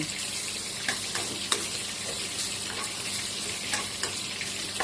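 Preserved radish (chai poh) stir-frying with garlic in a hot pan, a steady close sizzle with occasional sharp scrapes and clinks of the spatula.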